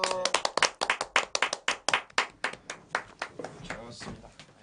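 Studio audience at a live radio broadcast clapping in rhythmic unison, a steady run of crisp, close claps that gradually loosens and fades, with a voice speaking over it.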